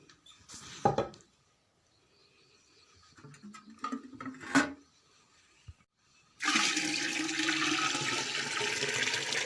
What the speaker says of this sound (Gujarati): હવે આપણે ભરી લઈએ પીવાનું પાણી